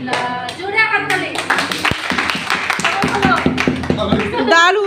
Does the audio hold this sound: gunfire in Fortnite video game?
no